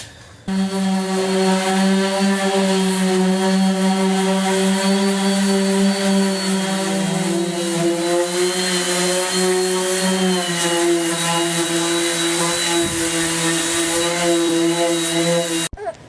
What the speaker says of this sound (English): I'm thinking about spraying the Raptor liner with this.